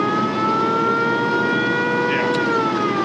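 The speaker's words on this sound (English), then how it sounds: "And it does have a siren, which I don't know if you hear that." A steady, loud wailing siren on a restored 1934 Chevrolet Master Deluxe holds a sustained tone throughout, with engine rumble underneath and no talking.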